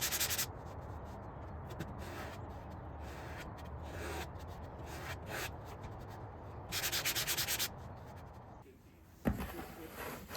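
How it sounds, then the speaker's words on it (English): Hand sanding along the edges of a wooden table saw sled for cutting miters, a steady run of rasping strokes with brief louder bursts, close and fairly even, with no talk. "As I was sanding down the edges"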